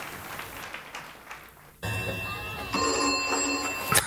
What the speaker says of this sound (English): so the phone rings and he tells her not to answer it.